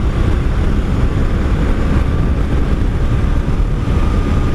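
Loud, constant wind roar buffets the microphone while riding a 1984 Honda V65 Sabre VF1100S motorcycle, a dense low rumble that holds steady with no pauses and no talk.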